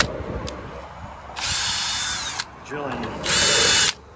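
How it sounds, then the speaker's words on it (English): A power drill bores into wood while a hinge mortising jig is set up for a transom window build. It runs in two loud, sustained whirring bursts with a quieter pause between them, and a voice speaks faintly underneath. "drilling"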